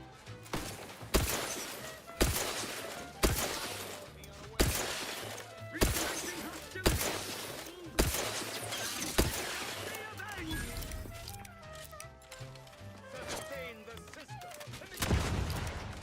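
Shotgun blasts in a video game, a steady run of about eight loud, evenly spaced booms roughly one second apart, then quieter shots and clutter trailing off, with a voice talking over part of it.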